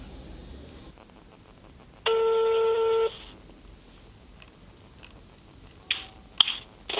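A telephone tone sounds before a phone interview on a Congolese news broadcast, a single steady beep lasting about a second, followed later by a few short clicks and clinks against quiet background noise.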